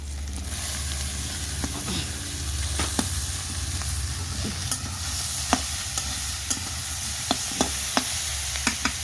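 Mushrooms added to onions frying in a pan on a traditional stove: a constant close sizzle runs underneath while sharp spoon scrapes and taps break through at irregular intervals, with no voices.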